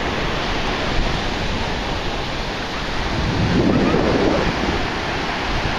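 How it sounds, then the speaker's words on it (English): Ocean waves of an incoming tide roll in with a steady broad roar, swelling slightly louder partway through, with wind buffeting the microphone and no voices. "Look at that tide."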